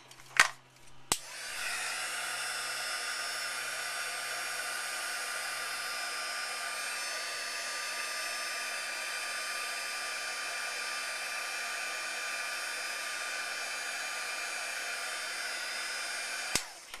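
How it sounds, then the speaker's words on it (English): A heat gun melts embossing enamel on a snowflake for a holiday money card holder craft; a couple of sharp clicks come first, then the tool switches on and blows a steady, close, whirring hot-air drone for about fifteen seconds, with nobody speaking. "And then I'm going to go ahead and heat this."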